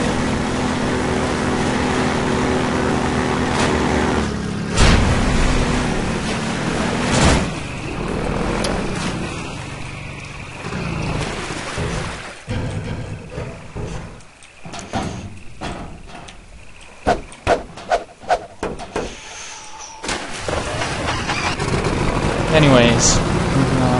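A vehicle driven in the game Half-Life 2: a steady rumbling engine drone with bumps and clanks, jolting impacts and a rapid series of knocks, while a person talks over it at times.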